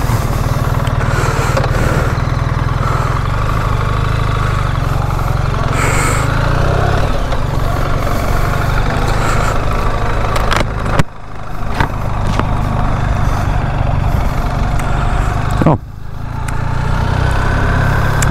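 A BMW R1300 GS Adventure motorcycle engine drones steadily while riding, with loud continuous engine and wind noise broken by two brief dips in level.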